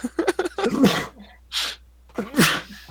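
A single sharp sneeze bursts out close by amid people talking, followed by a breathy exhale.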